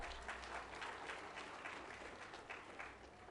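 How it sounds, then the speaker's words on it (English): Audience applause at the Midtown Oscars awards event, a quiet, fairly distant patter of many hands clapping that continues without a break. "Please give a big round of applause."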